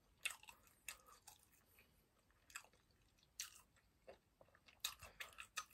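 Someone chewing and biting crunchy convenience-store food while eating Jjapagetti noodles, quiet close-up crunches in short irregular bursts separated by soft pauses.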